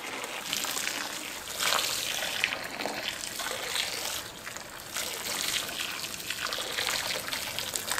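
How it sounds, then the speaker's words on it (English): Boiled water is poured over a steel bike frame tube to dissolve brazing flux, a steady close splashing trickle with gushing swells throughout, and nobody speaks. "I boil some water and pour it over the tube to start dissolving the flux."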